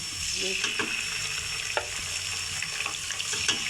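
Sliced onions fry in oil as ginger-garlic paste is added and stirred for a chickpea curry, a steady close sizzle with scattered scraping clicks from the spoon.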